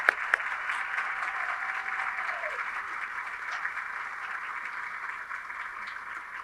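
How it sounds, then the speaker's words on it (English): Applause from an awards ceremony audience honoring past recipients, a soft steady wash of clapping that carries on throughout at a moderate distance, with faint murmurs beneath. "Big round of applause."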